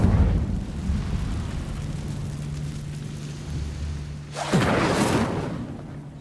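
Incendio fire spell cast in Hogwarts Legacy, heard as a sudden loud fiery burst and whoosh after a low steady hum, sustaining for a couple of seconds before fading.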